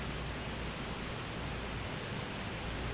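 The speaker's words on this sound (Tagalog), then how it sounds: "So, this is the Nahulugan Falls." Nahulugan Falls in Catanduanes pours with a dense, steady rushing roar, a loud broadband wash of falling water that stays constant throughout.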